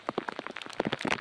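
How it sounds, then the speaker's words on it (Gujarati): Heavy rain falls while road runoff streams into a drain, giving a brief, faint patter of drops and small splashes. "અને કન્ટિન્યુ અત્યારે જો વરસાદ કેવો પડે છે."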